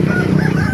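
Young Texas-breed chickens at a busy poultry market in Baliuag, Bulacan give off a dense, continuous chatter of clucking and squawking fowl, loud and close, with no break across the brief stretch.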